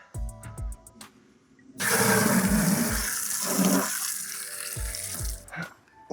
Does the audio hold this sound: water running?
yes